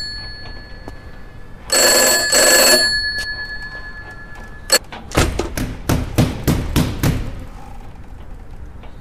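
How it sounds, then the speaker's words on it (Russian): Shrill electronic telephone ringing in a Russian horror video game set in a creepy village, two ring bursts, followed by a series of loud, sharp thuds and knocks. "Кто? Телефон."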